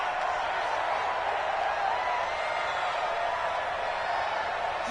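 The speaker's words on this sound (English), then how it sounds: "The crowd here in the Dome making things difficult." Stadium crowd noise inside the Dome during a football video game: a steady, broad roar of spectators holds evenly throughout, a dense wash of massed voices with no breaks or distinct cheers standing out.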